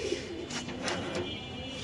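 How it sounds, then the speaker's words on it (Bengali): Pigeons coo in several soft, throaty bursts at a pigeon farm, close by over a low ambient murmur. "ডেনিশ সাদা দানিশ সাথে একটা নর কবুতর"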